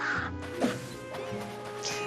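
A crow-like bird enemy in the Oceanhorn adventure game gives a short harsh caw amid game sound effects and a low ambient drone.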